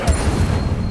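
A fire spell cast in Hogwarts Legacy at Hogwarts erupts in a short, deep whooshing burst, one quick low-heavy blast inside a single second, with no talking.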